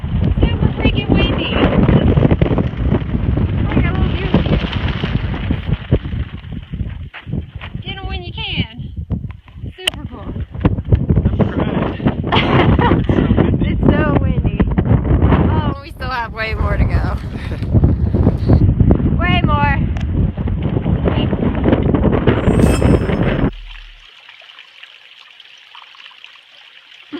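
Strong wind on the Appalachian Trail buffets the microphone in a loud, constant roar, with a voice talking now and then underneath, until it suddenly cuts out near the end.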